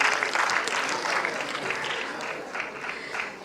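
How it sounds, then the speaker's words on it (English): A crowd at a UPG College gathering breaks into a round of applause. The clapping is loud and fills the space, starting strong and then thinning slightly, with no speech on top. "a huge round of applause for UPG for being UPG"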